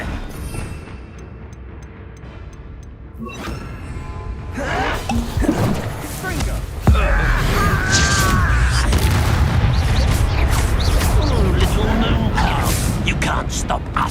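A Confringo blasting spell explodes in Hogwarts Legacy: a sharp booming blast hits midway and leaves a loud, rumbling roar of combat. A voice shouts spell names just before it.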